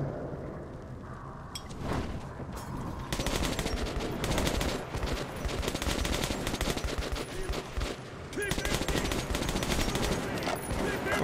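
Sustained automatic gunfire from a full magazine being emptied in Metro 2033 Redux, a dense rapid stream of shots starting near two seconds and running steadily to the end over a rumbling background.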